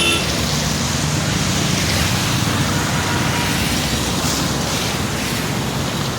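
Floodwater streams across a road after monsoon rain, making a dense, steady rushing wash that fills the whole clip at close range, with no voices and no break in the flow.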